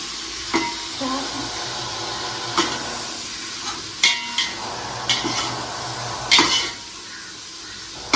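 Mint and coriander for mutton biryani sizzle steadily in a pan, with a utensil scraping and clacking at irregular intervals as the leaves are stirred and sautéed.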